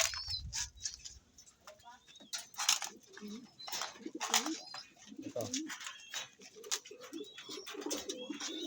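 Soft, repeated pigeon coos murmur close by, mixed with scattered chirps and rustling in a quiet outdoor setting.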